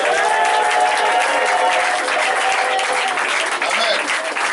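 A church congregation applauds and cheers for Jesus, a dense, loud, steady wall of clapping and crowd voices that carries on without a break throughout.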